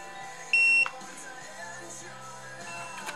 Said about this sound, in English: Then hold the set button again until you hear it beep